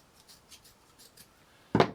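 A single short snip as a small paper flower piece held between tweezers is trimmed with scissors, crisp and close after a quiet pause.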